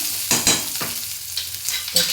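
A spoon stirs fried green peas through sizzling upma in a pan, giving several scraping strokes over a soft, continuous frying crackle, close and alone.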